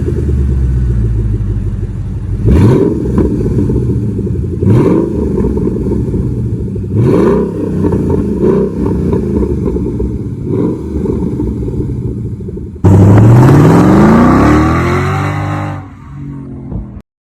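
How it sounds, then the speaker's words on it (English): Ford Mustang GT with Spelab exhaust cutouts revs in several sharp blips over a deep idling rumble, then climbs in one loud sustained rev before dropping back, close and alone. "we're going to do a sound test now"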